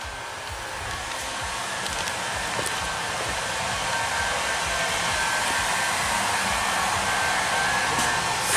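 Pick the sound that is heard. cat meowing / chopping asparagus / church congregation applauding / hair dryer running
hair dryer running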